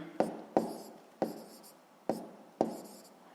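Chalk or marker strokes on a board land in five sharp taps, each with a short scratchy tail, close and quiet, while a physics answer about spring stiffness is noted.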